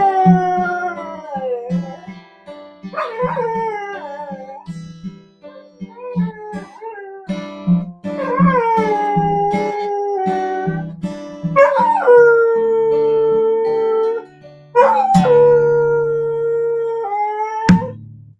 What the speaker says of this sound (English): Oh man, that dog, he loves that vocalization.